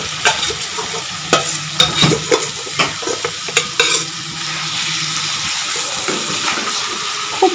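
Marinated meat is tipped into a pan of fried onion and tomato and stirred, giving wet sizzling with irregular scraping and clattering stirs, then a steady frying hiss near the end.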